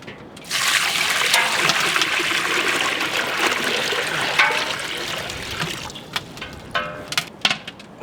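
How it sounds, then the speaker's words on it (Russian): Cold water poured into a pot for beluga sturgeon broth, a steady close splashing trickle lasting several seconds, then a few separate drips and splashes as the flow stops. "Вливаем холодную воду."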